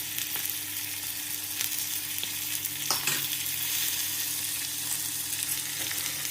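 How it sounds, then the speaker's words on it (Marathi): Onion, tomato and curry leaves fry steadily in hot oil, giving a dense continuous sizzle with a few brief clicks of stirring, fairly close and with no voices. "थोडासा कांदा आणि टोमॅटो आणि कढीपत्ता. आता सगळं छानपैकी भाजून घ्यायचं."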